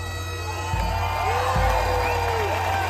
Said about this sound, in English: Even on the National Mall there, the crowd was humongous.